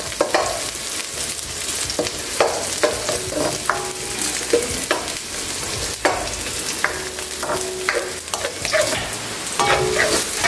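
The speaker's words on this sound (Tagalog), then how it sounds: "Lutuin lang natin ng bagya yung bawang at saka sibuyas." Garlic and onion sautéing in a pan, a loud steady sizzle with frequent clinking, scraping stirs from a utensil throughout, no talking.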